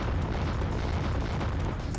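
Explosion in the video game Winback: Covert Operations, a dense, steady, rumbling roar filling the whole moment with no clear start or end.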